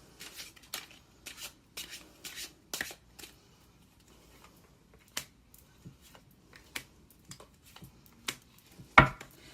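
Tarot cards are shuffled by hand in a quiet room, making a series of crisp, close riffling snaps and slaps in irregular bursts with short pauses between them.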